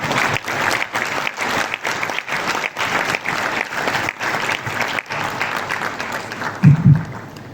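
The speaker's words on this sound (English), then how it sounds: "With a warm round of applause, please help me welcome our guest speaker, CEO of HealthTech Ghana Limited, Mr. Daniel Morkla." An audience at a medical school white coat ceremony claps to welcome a guest speaker, loud and continuous with slight swells, then thins out near the end as a voice briefly begins.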